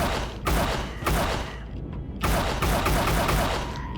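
Bursts of dense automatic gunfire from shooting at enemies in the sci-fi survival game Empyrion, loud and close, with two sustained volleys separated by a short pause.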